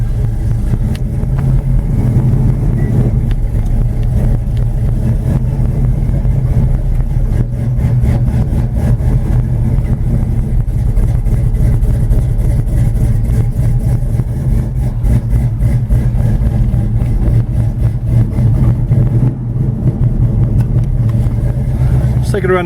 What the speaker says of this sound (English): I crank it up cold.